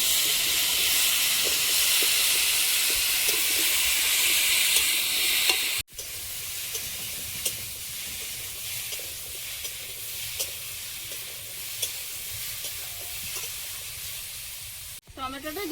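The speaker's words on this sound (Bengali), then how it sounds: "সবজিটা সুন্দর করে কষে নেব।" Ash gourd cooking in a pan with turmeric and salt gives a steady loud sizzle and hiss, with faint scraping stirs throughout and a brief break in the sound partway.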